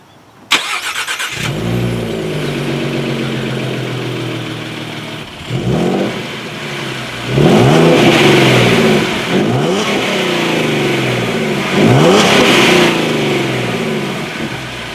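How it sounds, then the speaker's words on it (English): A 2017 Ford Mustang V6 starts and idles, then revs hard several times through a dual exhaust, each rise swelling into a loud, throaty roar before settling back. "So as always, here is that exhaust clip."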